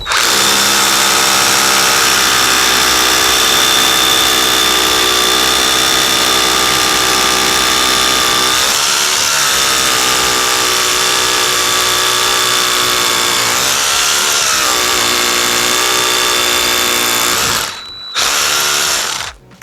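A Vitals Master ARa 1618-2P cordless rotary hammer bores into a paving stone with a 10 mm bit at second speed, a loud, constant high-pitched whine that runs unbroken for many seconds before briefly cutting out near the end.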